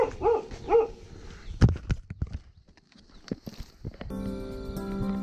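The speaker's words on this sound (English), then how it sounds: "You see how he's barking?" A dog barks outdoors at an eco village in Ha Giang, Vietnam: a couple of close barks up front, then sharp knocks and scuffs, with a steady tonal hum entering near the end.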